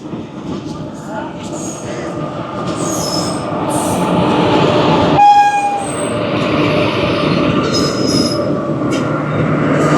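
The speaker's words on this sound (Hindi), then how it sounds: "ये अभी इंतज़ार के बाद फाइनली जो है हमारी ट्रेन आ चुकी है।" The Jaynagar Intercity Express pulls into Hajipur station, its wheels and carriages rumbling loudly and steadily while a sharp horn blast and shrill wheel squeals cut through, with people talking on the platform.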